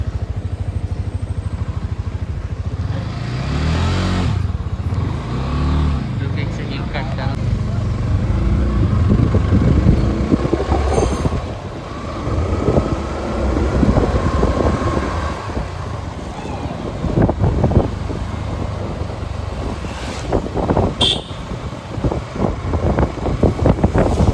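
A friend's motorbike ridden slowly, its low engine rumble steady with some wind buffeting, while someone talks over it now and then.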